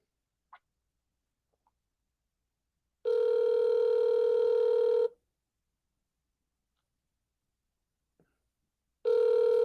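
Telephone ringback while calling a number: two long steady tones, each about two seconds, separated by silence, with faint clicks before the first tone.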